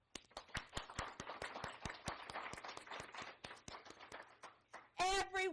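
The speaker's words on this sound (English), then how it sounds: "will you join me in giving them a warm round of applause as well?" An audience at a school district convocation gives a warm round of applause, with brisk, uneven clapping from a modest crowd that fades toward the end before a voice briefly cuts in.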